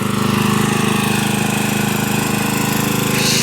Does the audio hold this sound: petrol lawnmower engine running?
yes